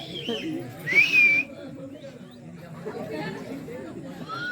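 A whistle blown at a lively outdoor stage comedy and folk theatre show, one short shrill rising blast standing out over the chatter of a crowd, with voices talking throughout.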